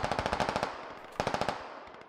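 Rapid automatic gunfire in a military video game, two quick bursts of sharp evenly spaced shots, loud and close, separated by a brief pause.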